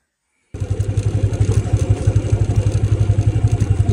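A motorcycle ridden along a hill road between Jhandi and Dovan: after a half-second of silence, a loud, close engine drones steadily with a fast, even pulse for the rest of the clip.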